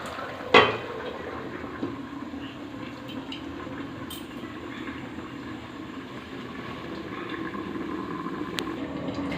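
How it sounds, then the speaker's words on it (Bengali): A lid set onto a pot of simmering crab curry, one brief metallic clank near the start followed by a steady low bubbling hum. "এবারে ঢাকা দিয়ে দেবো।"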